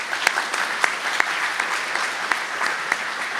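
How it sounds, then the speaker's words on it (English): A conference audience in a lecture room applauds, a steady wash of clapping with a few sharp individual claps standing out near the listener. "So final round of applause for Ray."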